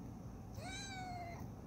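A single drawn-out cat meow rises and then slowly falls, fairly soft and close, over a low background hum, with no voices.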